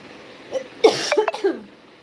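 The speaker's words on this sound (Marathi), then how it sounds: "इधर खांसी सर्दी खांसी चालू है" One person coughs close by in a short burst of three or four harsh coughs.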